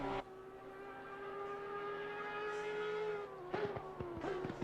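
Audi V10 race car roaring past in a racing video game at Oulton Park, a sustained steady engine tone holding pitch before dropping as it shifts, with a few sharp transient clicks near the end.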